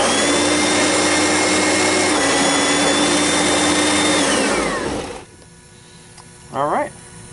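An Oreck XL-21 upright vacuum cleaner runs with a loud steady whine, then powers down with a falling pitch and goes quiet, followed by a brief voice.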